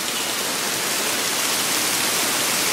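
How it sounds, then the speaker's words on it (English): Downpour near a hot tub, a loud, even wash of pouring rain hissing without pause and with no talk over it. "it is pouring down rain"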